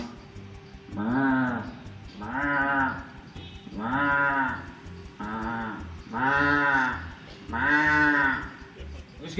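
People imitate sheep bleating with six drawn-out, nasal calls in a steady rhythm, each loud and close, with short gaps between them.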